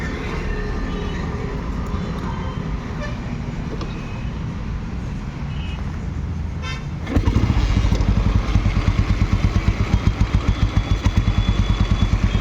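An old Royal Enfield Bullet motorcycle fires up partway through, its engine catching loudly, then settling into a close, steady, thumping idle beat that continues to the end.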